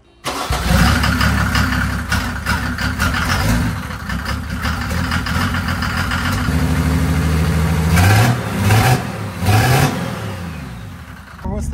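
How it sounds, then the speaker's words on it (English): Mercedes OM603 diesel engine fitted with a Holset turbo cranking and firing up, then settling into a loud, rough diesel idle with a few revs rising and falling, heard close up with some talk over it. "So let's start it up and"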